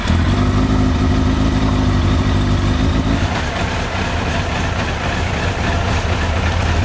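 A Suzuki GSX-R1000 K1 motorcycle engine idles low and steady, then the rhythm loosens and softens partway through, a close continuous mechanical burble with no talking.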